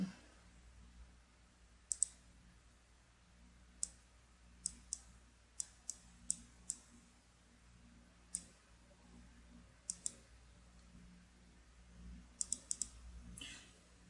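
Sharp, quiet mouse clicks on a computer while a polygon selection is drawn in graphics software, scattered irregularly, sometimes in quick pairs or bursts, over a faint low hum.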